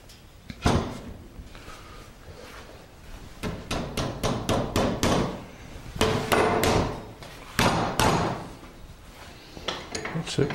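Hardwood dowels are hammered into workbench top boards, giving a run of sharp, close knocks in bursts, some rapid and some spaced, over quiet shop background.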